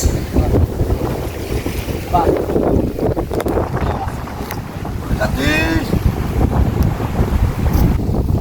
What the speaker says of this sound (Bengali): এই বাতাস এই বৃষ্টি এই ম্যাঘ নদীতে না আসলে বোঝা যায় না